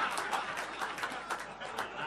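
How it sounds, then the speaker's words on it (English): A comedy club audience in Brighton gives a short burst of clapping, a dense, fairly faint patter of hands lasting a couple of seconds with crowd murmur beneath it. "That was an easy applause in Brighton"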